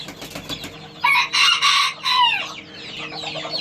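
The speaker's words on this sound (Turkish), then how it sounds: "Harika bir horoz." A Serama rooster crows loudly and close by, one drawn-out call with a falling tail, amid surrounding clucks and farmyard bird chatter.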